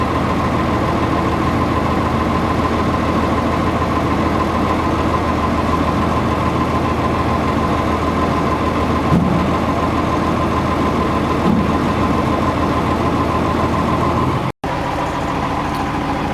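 M35 A1 Deuce 6x6 military truck diesel engine idling while its winch pulls a load, a steady, loud, close mechanical rumble with a faint rhythmic knock, continuous apart from a brief dropout near the end.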